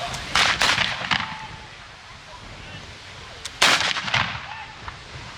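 A volley of musket gunfire at a military history reenactment show cracks out in two ragged bursts of several overlapping shots, loud and echoing outdoors, with crowd murmur between them.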